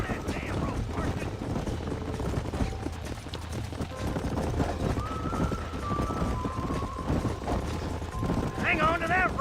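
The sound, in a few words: horse hooves in the video game Red Dead Redemption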